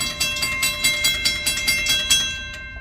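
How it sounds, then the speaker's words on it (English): A mechanical railroad crossing bell rings in fast, even strokes, about eight clangs in a row, then stops with a single fading ring. "You got a sample of what the mechanical bells sound like at Southeast Avenue and Main Street."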